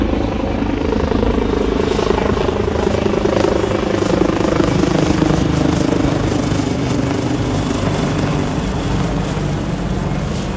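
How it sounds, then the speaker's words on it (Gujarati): A helicopter drones loudly and steadily close by over Juhu Beach, Mumbai, its rotor throbbing in a constant chop with no pauses. "હેલિકોપ્ટર જુઓ"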